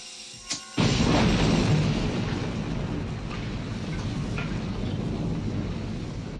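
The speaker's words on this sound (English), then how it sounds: "And the room fucking explodes." A room explodes in the horror film Halloween II with a sudden, massive boom that fills the whole range, then rolls on as a long, loud, roaring rumble of fire and debris without letting up.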